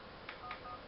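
Phone keypad tones as a cheat code is dialed on an in-game phone in GTA IV, three short, faint beeps spaced evenly apart over a quiet background.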